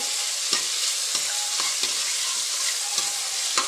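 Finely chopped onions, garlic and tomatoes fry in a pan with a steady broadband sizzle, broken by regular scraping stirs roughly every second; close and continuous, with no talking.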